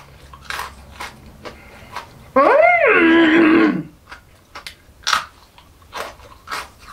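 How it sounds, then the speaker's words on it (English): Crunchy honeycomb drizzled with chocolate from a caramel chocolate Easter egg is bitten into with one loud, close, sustained crunch lasting over a second, with faint mouth sounds and quiet breaths around it. "So I'm going to try a bit of this honeycomb with a chocolate drizzled on it."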